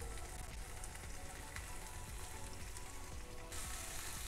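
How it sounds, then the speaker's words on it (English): Vegetables fry in oil with shrimp sauce in a pan, giving a faint, continuous crackling sizzle that runs evenly from start to finish. "We're gonna add a little bit more oil and cook our veggies in it."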